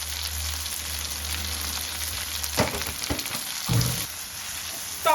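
Chopped tomato, green chilli, salt and turmeric sizzling in a hot pan, a soft steady crackle with a few sharper stirring clatters near the middle and end.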